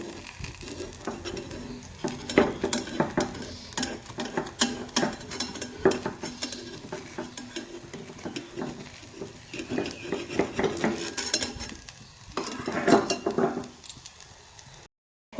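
A homemade Bangladeshi snack made without rice or flour fries in a pan with a spoonful of white oil, with a steady low sizzle, metal spatula scrapes and clinks as the piece is flipped, and a few louder clatters.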